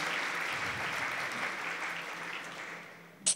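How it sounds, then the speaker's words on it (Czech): Audience applause at an awards gala for mortgage products, a steady wash of clapping from a crowd filling the room for about three seconds, then a brief sharp burst at the end. "Potlesk si zaslouží i bronzová medaile."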